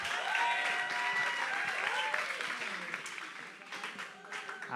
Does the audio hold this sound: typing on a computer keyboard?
no